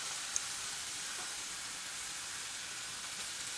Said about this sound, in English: Our pan is hot, so we're gonna brown our pork chops on both sides.